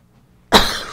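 A single sharp, loud cough bursts out after a brief silence, its rough breath trailing off.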